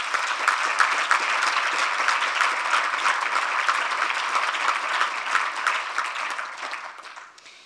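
Long, full applause from a conference audience at a diabetes policy event, dense rapid clapping from many hands holding steady for several seconds before thinning out at the end.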